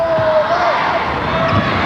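Crowd at a 1996 NBL basketball game between the Gold Coast Rollers and Perth Wildcats cheering for the green team, a steady loud roar of voices filling the arena beneath a commentator's talk, with a ball bouncing.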